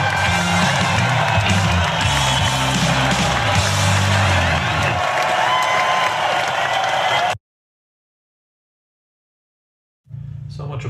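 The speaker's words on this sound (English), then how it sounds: "So much applause so early." Loud, dense audience applause with cheering and whoops at a physics lecture, filling the first seven seconds, then cutting to silence before a brief burst of crowd noise returns at the end.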